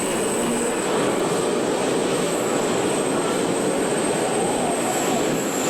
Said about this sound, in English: He used the one with the automotive engines, and it looks like Joe Ader will use the turbine